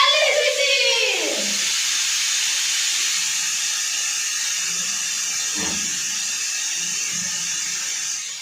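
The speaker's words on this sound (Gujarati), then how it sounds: "હવે સીટી થવાની પણ તૈયારી છે. હવે પહેલી સીટી" A pressure cooker cooking Maggi noodles lets out a loud, sustained steam whistle, a close continuous hiss that holds steady for several seconds with a brief rising tone at the start.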